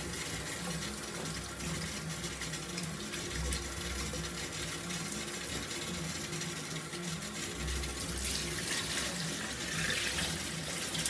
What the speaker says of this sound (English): So you just want to wash your rice, as you can see.